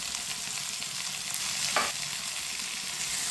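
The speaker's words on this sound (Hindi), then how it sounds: "टमाटर और सब्ज मिर्च को मिक्स करके इसे 2 मिनट के लिए पका लेंगे" Finely chopped tomatoes and green chilies fry in a pan with a soft, steady sizzle, and a brief spatula stir scrapes through midway; fairly quiet and close, with no talking.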